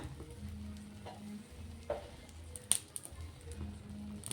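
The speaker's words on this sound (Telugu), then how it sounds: "ఇది ఒక్క రెండు నిమిషాలు ఫ్రై అవ్వాలి" An egg mixture with chili powder, salt, coriander leaves and coriander powder fries in a pan. It gives a soft, steady sizzle over a low hum, with a few quiet stirring scrapes and clicks and one sharper tap.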